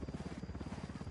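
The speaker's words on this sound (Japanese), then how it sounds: "ヘリ来てる。" A helicopter flies overhead in the video game Ghost Recon Wildlands, a steady rhythmic chop of rotor blades with a buzzing drone, fairly close and continuous.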